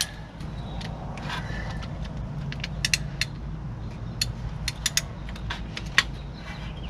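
A socket wrench with a 12-point half-inch socket and extender bar works loose a water pump bolt on a car engine, giving a series of close, sharp ratcheting clicks and creaks over a low background hum.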